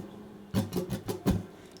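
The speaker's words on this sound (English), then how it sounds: "the foundational strum to this song is what I call the chicka chicka boom strum" Muted guitar strings strummed in a chicka chicka boom pattern for a campfire-style song lesson: a few quick percussive scratchy strums in close succession, fairly soft and close, with no talking.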